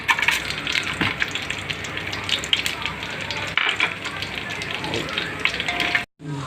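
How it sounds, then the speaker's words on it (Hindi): Whole spices (green and black cardamom, cinnamon, cloves, bay leaf and cumin) crackle and sizzle steadily in hot oil for a Lucknowi mutton yakhni pulao. The sound is close and continuous, with a soft voice underneath and a brief cut near the end. "ये हमारे मसाले तड़क चुके हैं"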